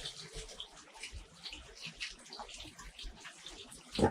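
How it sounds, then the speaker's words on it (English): Liquid water trickling and splashing through the back of an ice cave at Ash Cave in Hocking Hills, freezing on contact; a steady, fairly close wash of running water with scattered drips and a brief louder splash near the end. "there's still some liquid water flowing through back here and freezing on contact"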